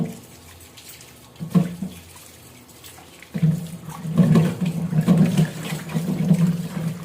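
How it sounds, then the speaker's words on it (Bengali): Raw mangoes being rinsed under running water, a steady splashing that starts softly, swells with a burst near the start and then runs louder and continuous through the second half, with no talking. "আমগুলোকে প্রথমে খুব ভালোভাবে ধুয়ে পরিষ্কার করে নিতে হবে"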